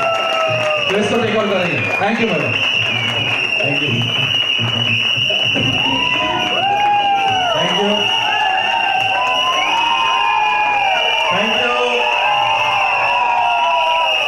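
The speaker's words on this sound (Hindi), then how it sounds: "उनके लिए जोरदार तालियां।" Loud cheering, whoops and applause from an office crowd in Mumbai honoring an area manager, sustained and dense throughout, with voices talking over it.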